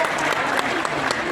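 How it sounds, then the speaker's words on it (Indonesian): A short burst of steady, dense clapping from a large audience at a national leadership meeting of an Indonesian market traders' association, the crowd applauding together with a faint voice or murmur underneath. "Tepuk tangan untuk Pak Ahmad."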